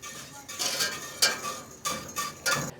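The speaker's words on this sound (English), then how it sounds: "and we're just gonna whisk that butter in." Whisk scraping and clinking in a pan while butter is worked in with potatoes, a few separate rhythmic bursts of metallic strokes, close and fairly quiet.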